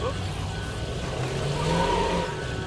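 A car engine droning steadily while driving in the zombie survival game State of Decay 2, loud and continuous with a slight rise in pitch, and a person speaking over it.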